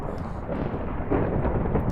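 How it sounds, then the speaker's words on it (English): Rumbling thunder from a thunderstorm in a Minecraft-style zombie survival game, a dense low roll that swells slightly toward the end, heard alone without talk. "Oh, it's a thunderstorm."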